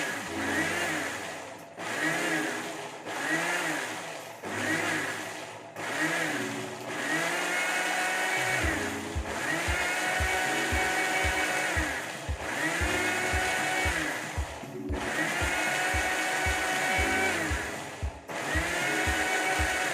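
A kitchen mixer blends homemade mayonnaise in steady bursts, its whirring motor loud and close, starting and stopping in short pulses with no talk over it.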